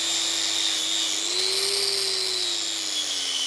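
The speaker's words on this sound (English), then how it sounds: "because if we grind down the rest, well, I don't want any debris to get into the diff" Paint and rust being ground off the differential casing of a BMW E46, a steady, loud, high-pitched whine of an abrasive power tool that runs unbroken throughout, its pitch swelling slightly midway before settling again.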